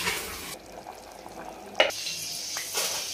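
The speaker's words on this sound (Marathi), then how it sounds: "तर आपण उकळी येऊ दे." Chickpeas in a pot of water coming to a boil before pressure cooking, a quiet bubbling and watery rush with a light clink partway through and soft trickling after, with no talking.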